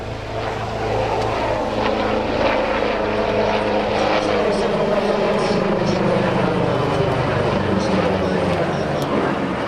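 A display helicopter manoeuvres at the Malta International Airshow 2016, its rotor and engine roaring as a loud, continuous drone that swells slightly as it turns, with a voice commenting over it.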